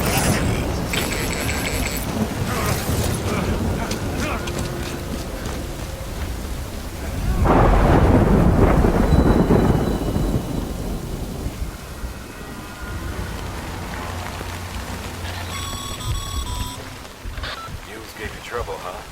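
Rain and thunder in the video game Death Stranding: steady rainfall hisses throughout, then a loud rolling thunderclap swells in the middle and fades slowly, with game music tones layered over the downpour.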